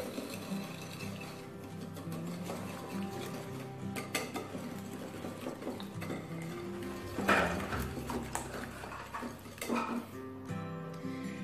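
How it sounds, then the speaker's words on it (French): Eggs being whisked with caster sugar in a bowl, a rapid run of light clinking and scraping strokes against the bowl that continues steadily throughout. "je vais ajouter dans mes œufs mon sucre en poudre et je vais bien mélanger"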